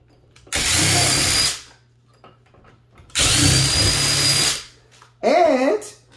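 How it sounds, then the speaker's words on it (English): Two loud bursts of a power drill with a Phillips tip whirring as it drives screws into an interior door knob-lock, each about a second long, followed by a brief high-pitched revving spin. "I'm going to use my drill with a Phillips tip."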